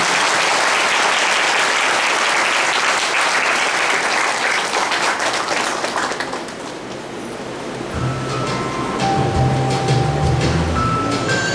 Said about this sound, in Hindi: सब लोग जोर से ताली मारिए।